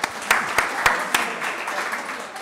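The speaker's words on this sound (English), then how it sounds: "Round of applause, I think, for Foodie Kids." An audience claps for a kids' food venture at an innovation talk, with steady applause and a few sharper nearby claps standing out, and no talking over it.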